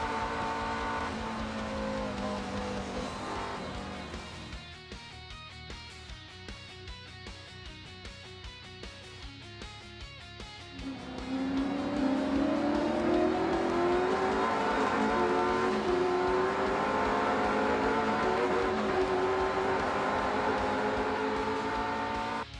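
Cars driving in a racing video game on a long trip to Brisbane, engine roar that dips quieter mid-way then rises into a loud revving, accelerating whine with pitch climbing, steady and close.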